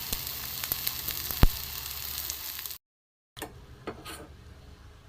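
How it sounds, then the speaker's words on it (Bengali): Mango malpua batter fries in shallow oil over low gas, giving a steady close sizzle with small crackles, a brief cutout of silence midway, then the frying resumes. "গ্যাস কমিয়ে কমিয়ে ভাজতে হবে, নাহলে এক পিছাটা পুড়ে যাবে।"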